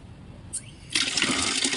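Water poured into a basin for a turtle, a sudden splashing rush that starts after a quiet moment with a brief clink, then continues steadily and fairly close.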